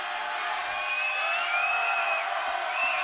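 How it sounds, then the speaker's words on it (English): A basketball crowd at a Grayson County versus Butler County game roars steadily after a free throw, a dense wash of cheering with a few high whoops and whistles rising above it. "The crowd comes to life."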